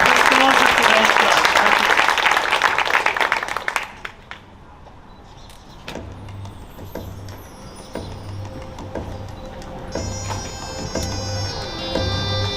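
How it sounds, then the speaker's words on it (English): An audience of parents and pupils claps loudly after a Year 3 class performance of an Egyptian-themed school assembly, a dense burst that cuts off abruptly, leaving a quiet hall with faint rustles and soft knocks. "Give them a round of applause, please"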